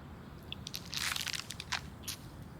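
A soft crunching, crackling bite into something crisp, a few short bursts clustered together, fairly faint over steady low background noise, with no talk.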